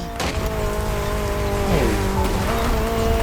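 BMW Z sports car driving in The Crew Motorfest: a steady, loud engine note rising and falling as it shifts through revs, with a brief tire or gear transient near the start.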